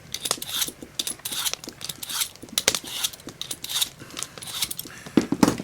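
Hunting knife drawn repeatedly through a small handheld sharpening gadget at a rustic log cabin deer camp: close, scraping metallic strokes with clicks and rattles in quick uneven bursts, no talk.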